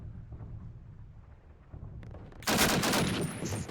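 Shots ring out in Call of Duty: United Offensive, starting with muffled distant rumbling and then a sudden, loud, sharp burst of close machine-gun fire.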